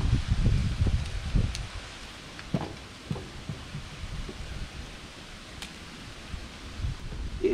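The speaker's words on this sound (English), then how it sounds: "It is windy as windy could be right now." Strong wind gusts through a yard and rustles fallen leaves. The sound is loudest at the start, then settles into a softer, uneven rustle with scattered low thumps.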